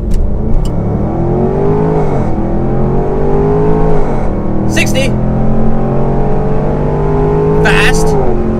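Range Rover Sport Supercharged in sport mode launched from 2,000 RPM and accelerating hard, the engine note climbing through gear changes in a loud, sustained interior roar, with a voice speaking over it.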